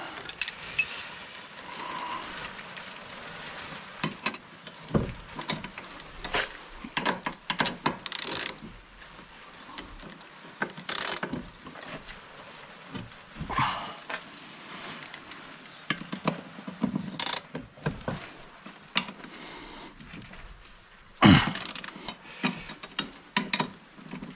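A part on a collector's GSI 16V car is tightened by hand, giving scattered metallic ratchet clicks and small mechanical taps at irregular intervals, some sharp and some quiet, against a faint room hum.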